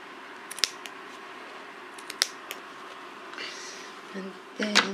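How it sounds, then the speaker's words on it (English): Scissors snip through stressed denim in several sharp, close clicks spread out over a few seconds, followed by softer fabric rustling. "and if I can just get the scissors in there,"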